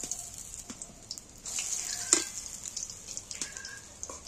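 Lentil fritters sizzling in hot oil as they are turned over in the pan, a steady close hiss with brief clinks and scrapes of flipping, no talk.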